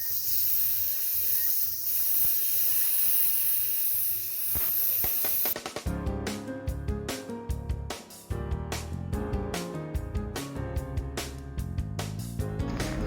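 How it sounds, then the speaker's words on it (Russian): A pressure cooker kazan cooking pilaf with meat and rice vents its steam: a loud, continuous hiss for the first several seconds, cutting off abruptly into a run of sharp clattering, tapping knocks. "Прошло 20 минут, и мы выпускаем пар."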